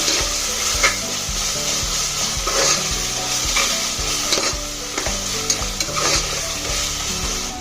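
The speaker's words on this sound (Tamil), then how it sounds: "இஞ்சி பூண்டோட பச்சை ஸ்மெல் போகிற அளவுக்கு நல்லா வதக்கி விட்டுக்கோங்க" Ginger, garlic and onions sauté in a pan for vegetable biryani, with a steady frying sizzle throughout and regular scraping stir strokes every second or so, close and continuous, with no voices.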